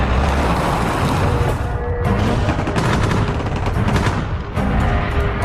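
Several gunshots near an army truck in a Tagalog zombie horror story, loud sharp cracks and booming bursts over a dense roaring background, with no talking.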